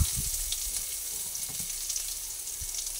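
Garlic and ginger fry in a pan with a steady, bright sizzle and a few soft knocks, close by and continuous, with no talking.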